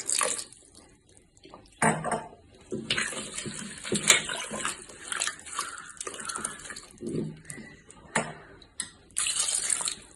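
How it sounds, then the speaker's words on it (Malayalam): Water runs and splashes into a metal pot for cooking beef pulao in uneven bursts, with occasional clinks of cookware, close by and fairly loud. "പാകത്തിന് വെള്ളം അതായത് നമുക്കിത് കുക്കാവാനുള്ള വെള്ളം വെച്ചു കൊടുക്കാം"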